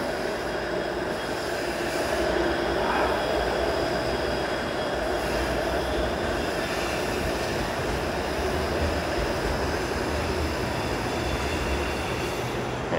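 A Toronto streetcar passes at the King and Yonge intersection downtown, a steady close rumble of wheels on rails with a faint tonal whine above it.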